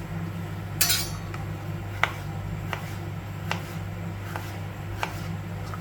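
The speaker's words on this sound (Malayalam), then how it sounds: "ചെറുതായിട്ട് ചെറുതായിട്ട് അരിയാം" A knife finely chopping banana stem on a board makes sharp, separate knocks about once a second, close by over a low steady background hum.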